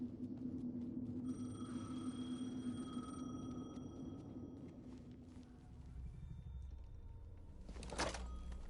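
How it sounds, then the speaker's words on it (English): A telephone rings in Alan Wake II: a steady electronic tone repeats over a low ambient rumble, fairly faint, and then a sharp louder burst comes near the end. No one speaks. "The phone again."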